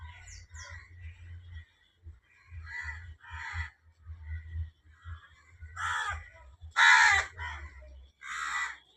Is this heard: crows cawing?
yes